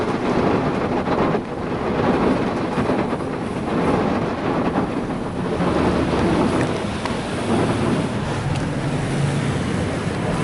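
Freshwater rinse stage of a Ryko Softgloss Maxx 5 automatic car wash at a Shell/7-Eleven gas station, a steady loud roar of water spraying onto a car from close inside, continuous with no pauses.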